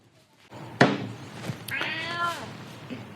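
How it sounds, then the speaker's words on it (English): Cat meowing indoors during a pottery glaze review: a thud, then a single drawn-out meow close by, with quiet room noise around it. "there's the cat."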